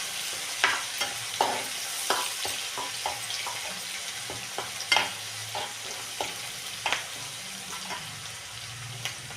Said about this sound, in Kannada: ಚೆನ್ನಾಗಿ ಹಸಿ ಅಂಶ ಹೋಗೋವರೆಗೂ ಹುರ್ಕೊರಿ